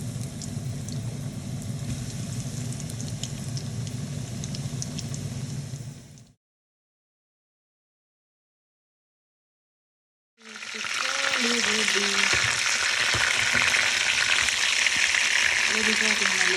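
KFC-style chicken hisses and crackles loudly in hot frying oil. The steady sizzle drops into total silence for about four seconds, then returns more intense, with bubbling and popping up close.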